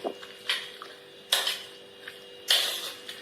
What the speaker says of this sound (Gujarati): આ ગ્રેવી આપણે આ શાકમાં બધી એડ કરી દઈશું બધું મિક્સ કરી લઈશું